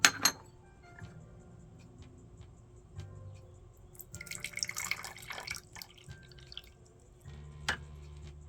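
Hand-rolled jade pillar white tea is poured, giving a quiet trickle and drips with soft clinks of glass and teaware, faint and close, with no talking.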